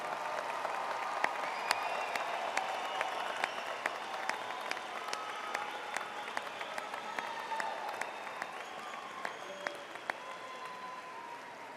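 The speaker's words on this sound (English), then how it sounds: "I know the audience would like to join me in another round of applause for our graduates" An audience at a December evening commencement ceremony gives graduates a sustained round of applause, many hands clapping in a broad, even wash with sharp individual claps standing out, gradually thinning toward the end.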